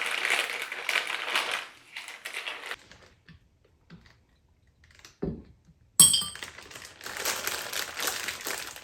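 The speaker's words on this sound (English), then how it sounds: "I'm going to go ahead and put in all our fizz drops before we start filling them up." Fizz drops are dropped into one-gallon glass beer bottles while bottling a honey country pilsner. There are rustling and crinkling bursts, then a sharp clink as one lands, then more close handling noise. No talking.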